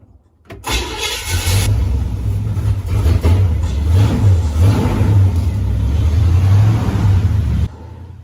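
A 1967 Pontiac Firebird with straight pipes cranks and fires up, then its engine revs loudly and unevenly at close range before cutting off abruptly near the end.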